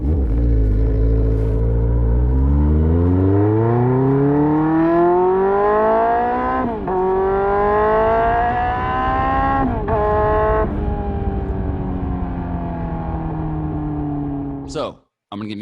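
A motorcycle engine runs after a carburetor repair, revving up smoothly in long rising sweeps and settling between them, loud and close, with a sharp sound at the end.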